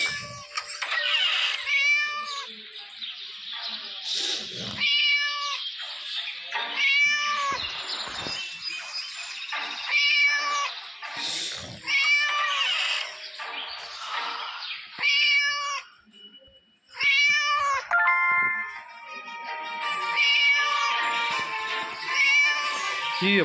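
A cat meows repeatedly for a long stretch, its cries loud and close, some drawn out into wailing caterwauls, separated by short gaps and one brief near-silent pause.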